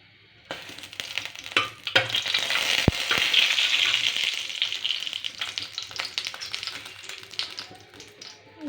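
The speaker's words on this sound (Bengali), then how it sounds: "দারচিনি, এলাচি আর কিশমিশ আগে ভেজে নিব।" Cinnamon, cardamom and raisins frying in ghee for carrot halwa, a bright steady sizzle that flares up suddenly and holds, punctuated by sharp clinks and taps of a spoon against the pan, fading slightly toward the end.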